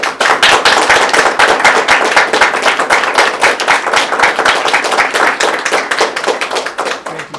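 Close, loud applause in a gallery at a solo art exhibition, dense clapping from a small crowd that holds steady before slowly thinning out.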